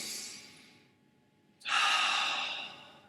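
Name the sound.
slow breathing in and out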